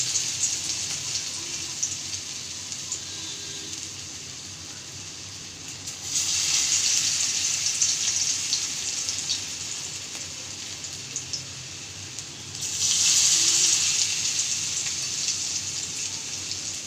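Cabbage fritters made with gram flour and rice flour frying in hot oil, a continuous close hiss and crackle that swells loudly twice as fresh rounds of batter are dropped in, with no talking.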